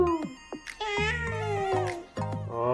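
A child imitates a cat, producing several drawn-out meows in a row, high-pitched and close, with short gaps between them.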